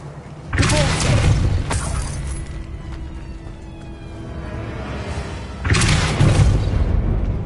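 Depulso spell casts in the Hogwarts Legacy video game land as two loud, booming force blasts with a rushing, shattering burst, separated by a quieter rumbling pause.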